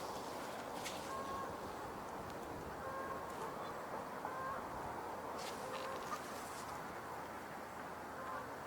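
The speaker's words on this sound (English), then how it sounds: "And I hear a goose or two in the air." One or two geese honk in flight overhead, sounding faint and distant over a steady outdoor background hiss, with scattered honks spread across the stretch.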